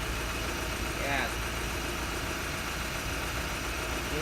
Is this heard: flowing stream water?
no